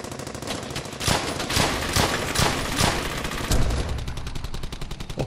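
Squad gunfire in Brothers in Arms: Hell's Highway, a loud run of rifle and machine-gun bursts with sharp repeated cracks over a steady battlefield din.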